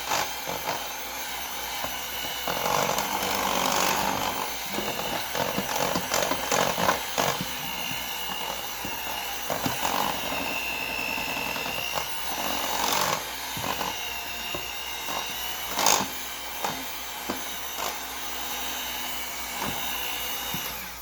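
Electric hand mixer with beaters whipping chocolate chiffon cake batter into a rich foam, a steady close motor whir with scraping of the beaters against the bowl, alone with no talk.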